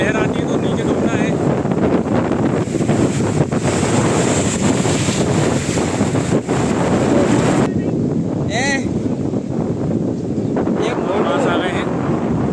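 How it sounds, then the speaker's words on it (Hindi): Sea waves wash in at Gangasagar beach under heavy wind buffeting the microphone, a loud, continuous roar with voices in the background. "देखिए लहरें आ रही हैं"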